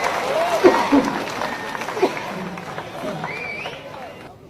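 Audience applause at a political rally, moderate clapping from a crowd mixed with background chatter and a raised voice, tapering off over a few seconds.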